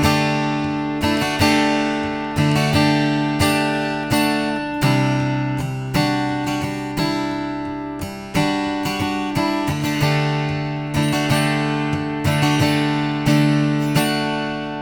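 Guitar plays a build-up passage of repeated strummed chords at an even pace, each strum ringing and fading before the next, up close and alone without any voices.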